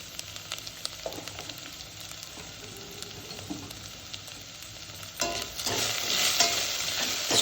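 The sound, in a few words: stirring turmeric powder into frying garlic and ginger paste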